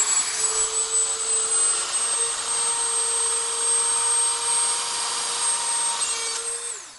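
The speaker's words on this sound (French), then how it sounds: "donc je vais enlever toute cette partie-là au Dremel." A Dremel rotary tool with a fine cutting bit cuts through the plastic of a Famicom console, a steady high-pitched whine with a rasping grind, close and loud for about seven seconds before spinning down.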